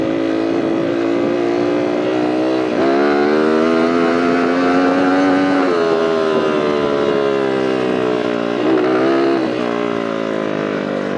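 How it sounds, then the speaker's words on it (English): A converted Honda CR80 two-stroke dirt bike engine revs hard and unevenly under throttle after compression braking at a lakeside riding area, a loud, close, buzzing drone that rises and dips in pitch with each blip. "it seems to be like when I get back on the throttle after compression braking that it's the most unhappy"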